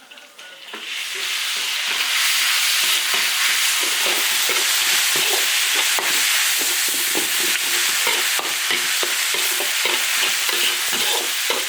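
Sichuan pepper, spices, dried chilies and chili sauce sizzle hard in a wok, a dense steady frying hiss punctuated by repeated scraping stirs, loud and near without any talking.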